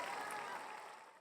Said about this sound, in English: Please welcome a big round of applause for Kanna